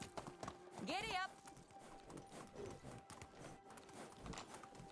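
Horse hooves clip-clop at a steady trot on a road in Medieval Dynasty, quiet and continuous under a voice, with a brief rising whinny-like tone early on.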